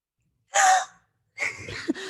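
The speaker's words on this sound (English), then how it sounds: "can you give me like a hopeful gasp of air?" A sharp, breathy gasp of air drawn in quickly, followed after a pause by a longer voiced breath that rises slightly, close and fairly loud.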